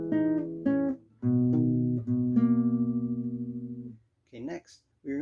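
A guitar plays the riff from a song: a few plucked notes, then sustained ringing chords fading out, close and clear, followed by a short bit of speech.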